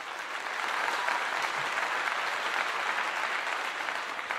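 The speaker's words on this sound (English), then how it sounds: "Let's give this young man a clap, and a much needed clap" Steady applause from a crowd, dense and even clapping holding at a constant level for about four seconds with no talk over it.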